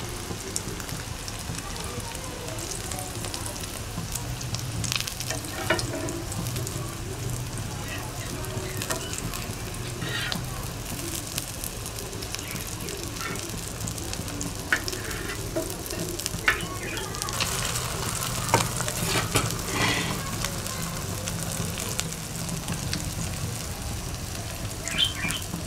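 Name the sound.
shami kabab patties frying in oil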